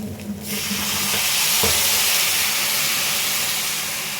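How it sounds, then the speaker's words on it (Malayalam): Water is poured into a hot pan for semolina uppumavu, setting off a loud, sudden sizzle that settles into a steady steaming hiss, close and alone. "2 കപ്പ് വെള്ളം ഒഴിക്കുക."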